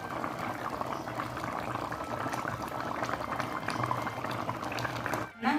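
Hot water bubbles at a steady boil in a rural village pot where desi chicken is cooking, a continuous close rolling bubbling alone for several seconds before a brief clatter at the end.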